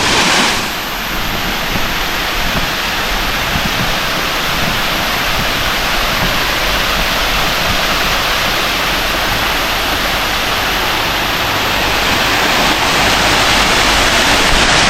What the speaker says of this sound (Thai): น้ำตกธรรมชาตินะ